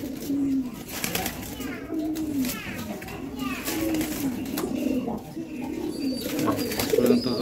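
Pigeons in a pigeon house give repeated soft, low coos close by, mixed with other bird calls, while someone talks over them and children's voices sound in the background.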